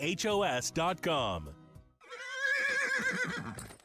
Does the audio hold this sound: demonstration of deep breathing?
no